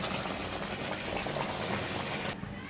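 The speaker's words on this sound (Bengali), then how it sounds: "এখন দিয়ে দিব গরম পানি" Hot water pours into chicken curry cooking in a pan, a loud continuous rushing and bubbling splash that stops abruptly near the end, leaving a softer simmer, close with no talk.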